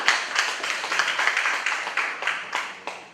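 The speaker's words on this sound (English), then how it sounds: "Another round of applause for him." Audience applause at a university business symposium, a steady patter of many hands clapping with rhythmic swells, fairly close and moderately loud, with no talking over it.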